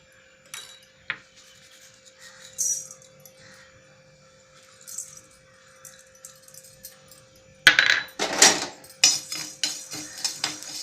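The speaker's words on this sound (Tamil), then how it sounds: "அடுத்தது உளுத்தம்பருப்பு போட்டுக்கிறேன்." Urad dal tipped into a pan while making puliyodharai podi gives a sudden loud rattling clatter of lentils against metal. Quiet scrapes and small clinks come before it.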